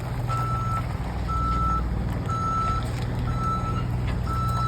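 Tractor-trailer truck backing up nearby, its reverse alarm sounding five evenly spaced steady beeps over a loud idling diesel rumble.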